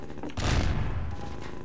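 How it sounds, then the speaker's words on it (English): A single cannon shot booms in a video game, a short heavy blast with a rumbling tail that fades quickly and stands alone without talk. "Yar, fire the cannon."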